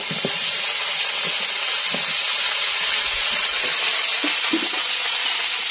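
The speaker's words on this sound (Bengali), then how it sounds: "রসুন, আদা, লঙ্কাগুলো, পেঁয়াজটাও ভেজে নেবো।" Garlic, ginger, chillies and onion fry in hot oil in a pan for a chicken curry, a loud, continuous hiss with occasional soft stirring knocks beneath it.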